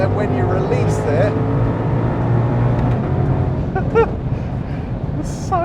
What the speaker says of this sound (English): there's so much grunt and it revs beautifully, this engine